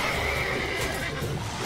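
A horse in a video game neighs clearly and close by, a drawn-out whinny over a steady background of game sound, with no talking.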